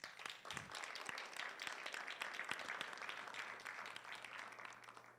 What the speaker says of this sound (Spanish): para quienes pedimos un gran aplauso